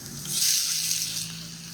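Shrimp and garlic frying in a hot frying pan, a soft steady hiss and sizzle lasting under two seconds with a faint low hum beneath.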